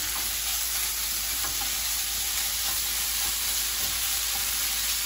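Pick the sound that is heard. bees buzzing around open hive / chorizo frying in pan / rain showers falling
chorizo frying in pan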